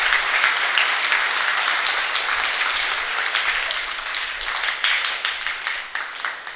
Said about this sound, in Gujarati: એક વખત હું તો કહું હાથ લાલ થઈ જાય એટલી તાળી પાડો આ સ્કૂલ માટે સાહેબ